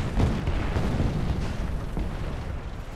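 A tank cannon fires in the video game War Thunder from a T-34E, a heavy booming blast that rolls out and lingers under a low rumble for a few seconds.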